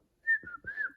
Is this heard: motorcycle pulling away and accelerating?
no